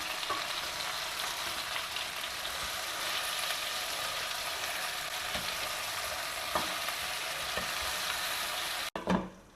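Brinjal pieces fry gently in a pan over a low flame, a steady soft sizzle with faint occasional scrapes, ending with a brief clatter.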